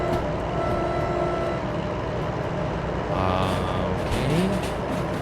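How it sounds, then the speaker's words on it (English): A diesel locomotive runs in a Derail Valley train video game, a dense, steady mechanical rumble and engine roar with some metallic clatter later on, continuous and moderately loud. "I'll turn it on just so you can hear the train working."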